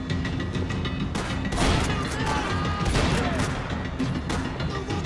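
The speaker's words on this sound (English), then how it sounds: "Who's shooting?" Loud, sustained gunfire from the Max Payne 3 video game, with overlapping shots, impacts and crashing debris in a dense, continuous barrage.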